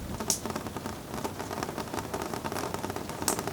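Rain pattering against a window on an evening, a soft steady hiss of drops with a few slightly sharper taps, faint and close, no voices.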